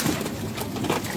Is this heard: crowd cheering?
no